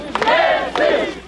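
Yeltsin supporters gathered outside the Russian Parliament building during the 1991 Soviet coup let out a brief, loud burst of chanting shouts, two surging cries within little more than a second.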